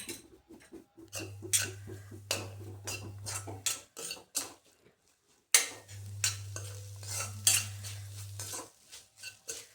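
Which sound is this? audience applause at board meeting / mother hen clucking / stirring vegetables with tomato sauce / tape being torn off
stirring vegetables with tomato sauce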